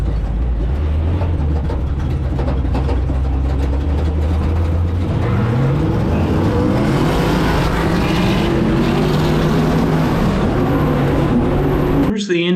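Sand drag racing vehicles launch side by side at Glamis dunes, a loud low engine roar that rises in pitch as they accelerate for about twelve seconds before cutting off abruptly; a voice is faintly present underneath.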